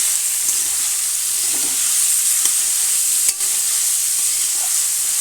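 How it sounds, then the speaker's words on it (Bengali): Finely chopped beetroot and potato fry with a steady loud sizzle in a pan, stirred with occasional scraping clicks, close and continuous with no talk. "দিয়ে ভালো করে নাড়িয়ে নেব"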